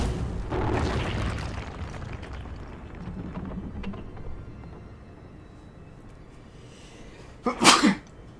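A single loud, sharp human sneeze near the end, following a stretch of muffled low background noise and quieter sounds.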